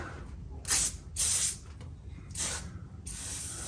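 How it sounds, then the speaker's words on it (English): Several hissing bursts of WD-40 rust release penetrant spray from an aerosol can, short and fairly close, separated by brief pauses, with a faint rattling of metal in between. "we're gonna get some coal oil and spray the heck out of that."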